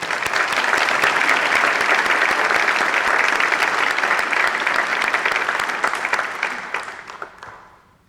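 Sustained applause from a large crowd at a scholarship awards ceremony, dense and steady clapping that fills the space before gradually fading out at the end.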